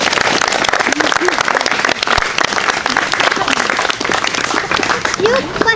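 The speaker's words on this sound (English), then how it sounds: "Clap away." Wedding ceremony guests at a restaurant applaud together in a steady, sustained burst of clapping, with cheering voices mixed through the crowd.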